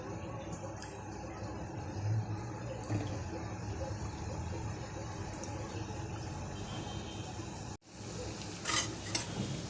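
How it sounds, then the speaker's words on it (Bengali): Singara pastries frying in hot oil give a steady, dense sizzle throughout, with occasional clinks of a metal utensil against the pan and a brief dip near the end. "তেলটা ভালো করে গরম হয়ে গেছে। এখন সিঙ্গারাটা ছেড়ে দেবো।"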